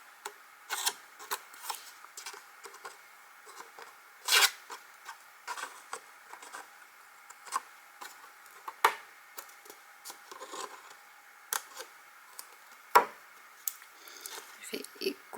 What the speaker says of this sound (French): Je vais découper ici, en fait.